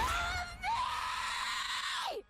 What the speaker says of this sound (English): That's a crazy screech.